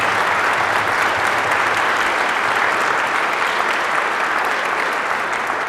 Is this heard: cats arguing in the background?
no